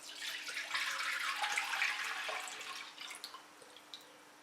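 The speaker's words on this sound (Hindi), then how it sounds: "पैन में डालेंगे 1 लीटर दूध" One litre of milk pours into a cooking pan on a lit stove while making custard, a soft continuous liquid splash lasting a few seconds that tapers off into a few faint drips.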